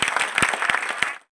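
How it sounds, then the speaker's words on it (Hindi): Crowd applause at an election campaign gathering in a Mahendergarh neighbourhood: a short, close burst of irregular hand claps from a small group, stopping abruptly after about a second. "एक बार ताली बजा दीजिए।"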